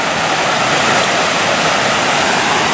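Rushing water pouring over the Coon Rapids Dam at night, a loud, constant broadband roar with no breaks, close and alone without talk.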